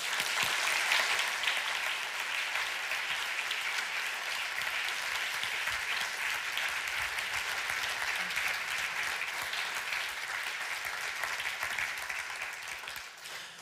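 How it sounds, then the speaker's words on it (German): Audience applause welcomes the DFG president onto the stage at the 2023 Gottfried Wilhelm Leibniz Prize award ceremony; dense, steady clapping from a large hall crowd runs continuously for about fourteen seconds and eases slightly at the end. "mit einem großen Applaus auf der Bühne begrüßen die Präsidentin der DFG"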